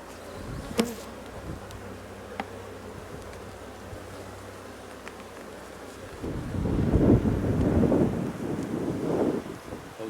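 Honeybees buzz in a dense, rising swarm during a spring hive inspection with drone brood on the frames, the hum growing loud and close in the second half after a quieter, steadier start.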